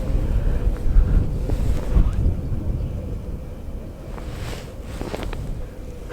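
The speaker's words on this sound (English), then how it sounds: "the wind has picked up" Strong wind gusts across an exposed hillside at the Alyosha monument in Murmansk, buffeting the microphone with a heavy, low rumble that swells and eases in waves.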